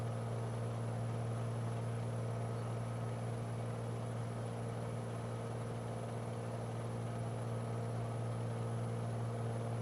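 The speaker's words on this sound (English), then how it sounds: "You can hear that turbocharger in the background." A steady Beechcraft Bonanza piston engine drone in Microsoft Flight Simulator 2020 with a constant high-pitched turbocharger whine running over it, continuous and unchanging throughout.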